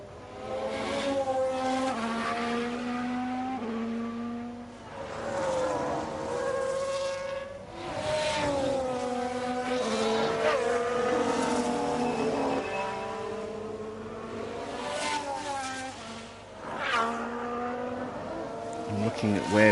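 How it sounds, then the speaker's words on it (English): Formula 1 car engines from the F1 Manager 22 game at the Marina Bay circuit scream and rise through the gears with crackling, continuous and loud, with spoken commentary over them. "Just hear his engine crackling in the background on some of these camera shots."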